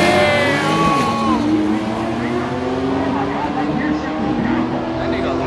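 Race cars including a Corvette and a BMW race at a big car meet in Charlotte, a loud sustained engine roar with rising and falling revving tones as they accelerate away, steady and dense throughout with no clear talk.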